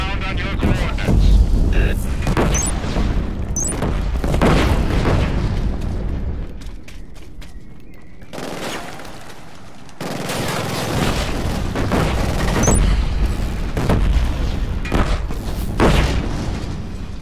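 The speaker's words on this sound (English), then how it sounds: "A confirmed artillery strike is inbound on your coordinates." Artillery strike explosions in the Killzone Shadow Fall video game: a series of loud, booming blasts and rumbling impacts with interspersed gunfire, a brief quieter lull midway, then heavy explosions resume.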